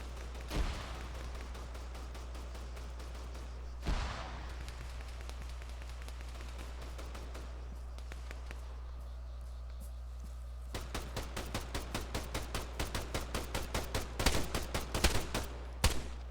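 Gunfire in the Arma 3 combat game: a couple of isolated shots early on, then a long run of rapid rifle bursts with heavier blasts near the end over steady low background rumble; no voices.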